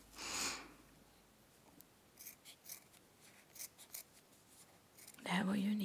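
Scissors snipping fine detail cuts into paper for an owl craft, a series of small crisp snips and rasps close up, with a brief soft voice at the start and end.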